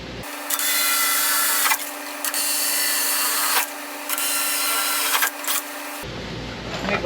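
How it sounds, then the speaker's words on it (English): A power drill with a step bit whines steadily, enlarging a hole in a tail light, pausing and restarting in several bursts before stopping. "We'll drill a little bit."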